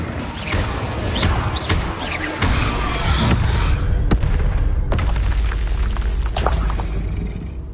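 Spell blasts in Hogwarts Legacy, the fire curse Confringo among them, go off one after another as booming explosions and crashing impacts, loud and dense, with little pause between the bursts.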